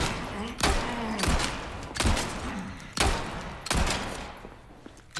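Gunfire in the video game Resident Evil 4, loud close shots in repeated heavy bursts about a second apart, each with a booming thud and ringing tail.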